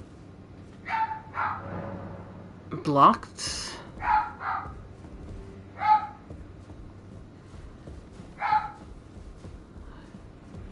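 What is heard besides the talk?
dog barking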